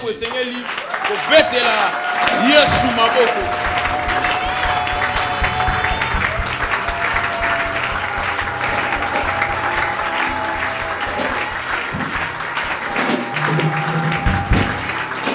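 A church congregation at a Sunday service claps to acclaim Jesus, sustained applause with a steady rhythm, tapping and thumps, while a voice speaks over it.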